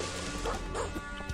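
A dog in the retro shooter Darkenstein 3D yelps sharply when shot, a quick burst set against crashing impacts and a busy, loud game soundscape.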